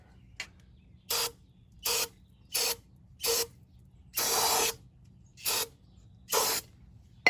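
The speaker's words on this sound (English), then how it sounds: "I got some brake cleaner here." A can of brake cleaner sprayed in short, sharp hissing bursts while working on a 1947 Ford 2N tractor, about eight separate blasts with one longer spray, each loud and close against quiet gaps.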